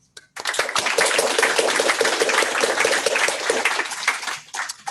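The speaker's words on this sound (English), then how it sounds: "So just one more round of applause for him." Seminar audience applauding at the close of a talk on interactive devices and the body, a dense, steady wash of many hands clapping that begins abruptly and holds for several seconds before tapering off.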